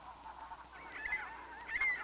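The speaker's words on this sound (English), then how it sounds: "a late mating pair of blue-phase, lesser snow geese, the ones we refer to as blue geese" A pair of blue-phase lesser snow geese honk in the open, faint and somewhat distant calls repeating in short bursts over a low steady background, with no voices.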